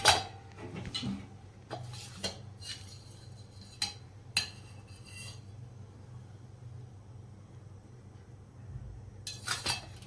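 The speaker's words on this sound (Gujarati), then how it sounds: "એના માટે હવે આપણે તવી ગરમ કરવા મૂકીશું." A griddle (tava) is set on a kitchen stove to heat, giving a few sharp metallic clinks and clanks at irregular intervals, quiet and close, with a faint steady hum beneath.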